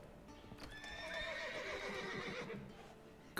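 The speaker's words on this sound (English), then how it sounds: "Gotta calm all the horses before they wake the guards." Horses in The Witcher 3 whinny loudly in a long rising-and-falling neigh, with clopping hooves and snorts underneath, close and clear with no talking.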